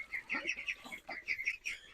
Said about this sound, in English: I bet you those ducks are going to come running